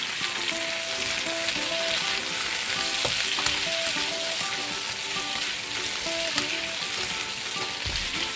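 Tomatoes sauté in a pan with a continuous bright sizzle and crackle, intermittent stirring clinks over it, close and steady with no talk.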